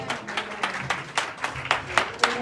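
A church congregation applauds in steady, rhythmic claps, roughly evenly spaced and moderately close, as a short burst of group clapping.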